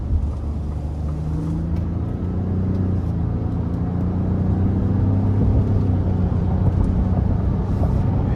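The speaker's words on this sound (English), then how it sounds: "the sound of the truck is great as well" A 2023 Ford F-150 Lariat PowerBoost V6 hybrid pickup's engine rumbles steadily with a low, droning hum and road noise throughout, close and continuous, with no voices.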